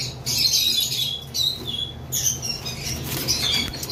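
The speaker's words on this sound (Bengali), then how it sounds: "কোকাটেল পাখি একটু বেশি দাপড়াদাপড়ি করে" Pet cockatiels flap and flutter restlessly inside their cage, a busy rustle of wings with scattered high chirps over a low steady background hum.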